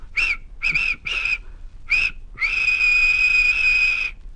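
A steam whistle gives four short blasts, then one long sustained shriek, loud and close.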